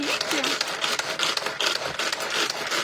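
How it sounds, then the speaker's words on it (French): Tupperware Supersonic hand chopper chopping parsley, a run of quick rough scraping and whirring pulses from blades through the herbs, close and fairly loud, with no talking. "Fait que je vais venir le hacher au supersonic."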